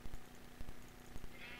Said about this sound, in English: shall we go kill a few sheep?